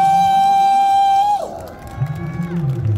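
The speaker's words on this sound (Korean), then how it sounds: "박수 한번 주십시오" A political rally crowd in Korea cheers for Han Duck-soo, with a loud sustained whistle-like tone at first, then broad shouting and cheering swelling up near and loud.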